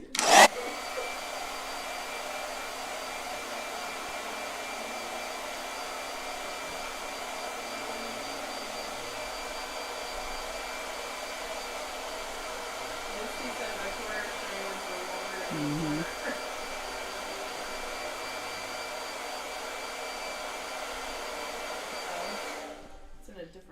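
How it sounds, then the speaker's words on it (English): A blow dryer runs continuously at a steady, even whine for over twenty seconds, starting with a click and cutting off at the end, close and constant, with faint voices now and then underneath. "All right, blow dryer."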